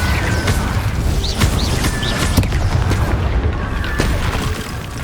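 A fire spell cast in Hogwarts Legacy gives a steady roaring, crackling whoosh with a few low booms and creaky mechanical clanks over five seconds, loud and constant throughout.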